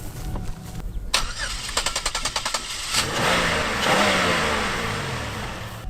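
A junkyard rally race car in a cornfield cranks in a quick series of starter bursts, then its engine catches and roars up to a loud, rough revving at close range.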